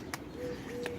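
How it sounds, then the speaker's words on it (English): A rescued baby wild bird gives two short, faint calls about a second apart over a quiet, steady background. "We saved a baby bird."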